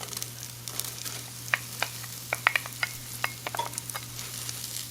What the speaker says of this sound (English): when you hear it crispy and dry, that's when you want to add your onion